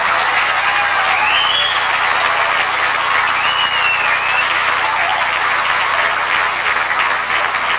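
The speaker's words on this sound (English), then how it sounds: "please join me in giving a very special applause for these two remarkable people" Steady applause rises from the audience at a 1998 Sri Lankan 50th Independence celebration in Canada, an even bed of clapping from a large hall lasting throughout, with faint tonal sounds drifting over it.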